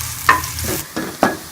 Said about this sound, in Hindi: अब प्याज को ब्राउन कर लेंगे।